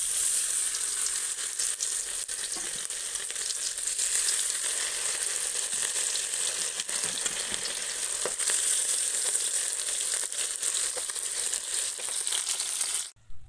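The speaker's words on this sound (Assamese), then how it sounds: "এতিয়া মাছ ভাজো তো চাই থাকক আপোনালোকে" Fish coated in turmeric and salt fries in hot oil in a wok, giving a loud, steady sizzle throughout, with occasional faint scraping stirs and no talking.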